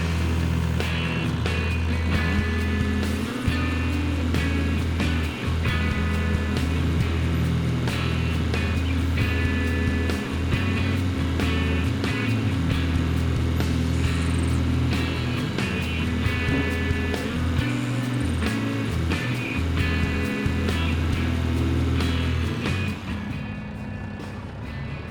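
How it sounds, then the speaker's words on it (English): A truck engine idles and works at a steady low drone while it is driven and loaded onto a trailer, with occasional knocks and shifts in the rumble before it eases off at the end. "let me go ahead and get the truck loaded up on here"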